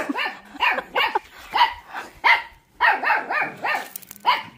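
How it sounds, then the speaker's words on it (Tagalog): A dog barks repeatedly in a rapid, uneven series of sharp, close barks, about a dozen in a few seconds. "Ang ingay ng aso."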